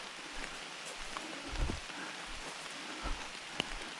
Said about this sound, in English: Wet, rainy day,